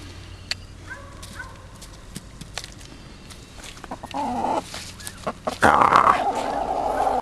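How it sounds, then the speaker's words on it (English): A Rhode Island Red chicken clucks and squawks nearby on an Oregon farm, first faint and sparse, then a louder burst of agitated calls toward the end. "Here's a Rhode Island red here."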